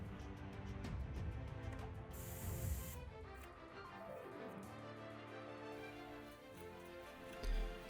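An airbrush sprays red acrylic paint onto a masked 1/48 Tamiya F-4B Phantom model kit, with a soft, close hiss and faint ticking around it. The recording is quiet overall and ends with a brief thump.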